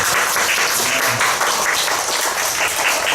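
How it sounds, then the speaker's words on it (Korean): An audience in a worship service applauds to welcome the youth group, a dense, steady wash of many hands clapping close and loud throughout, with no speech over it. "뒤에 보면서 한번 박수 한번 쳐줘서 환영할 수 있을 것"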